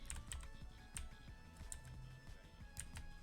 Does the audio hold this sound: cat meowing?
no